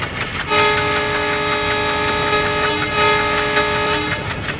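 WDM3D diesel locomotive hauling the Howrah–New Delhi Rajdhani Express in Train Simulator, sounding a sustained multi-tone horn for about three and a half seconds over a steady engine rumble, loud and close with no talk.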